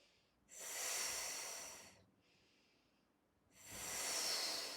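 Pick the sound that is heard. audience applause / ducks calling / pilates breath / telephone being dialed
pilates breath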